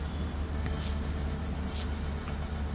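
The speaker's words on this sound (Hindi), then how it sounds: "पांव के घुंघरू की आवाज उसका पीछा कर रही थी" Ghungroo ankle bells jingle behind footsteps in a dark Hindi horror story, two brief bright metallic shimmers about a second apart over a low, steady background hum, with no voices.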